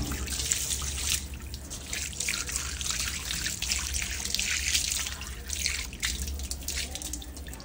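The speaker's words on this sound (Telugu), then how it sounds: "ఇప్పుడు ఇట్లా కాళ్ళ లెగ్స్ని వాష్ చేస్తున్నాను" Water splashes and drips steadily during an at-home pedicure as feet are washed, a continuous close trickle and patter with no talking.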